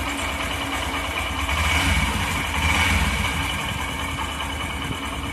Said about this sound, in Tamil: நான் வண்டி ஸ்டார்ட் பண்ணுறேன், சவுண்ட் எதுவுமே இருக்காது, பக்காவாக இருக்கும்.